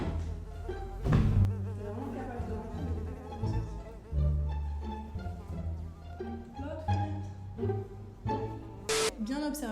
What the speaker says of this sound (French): Vous entendez la mouche ?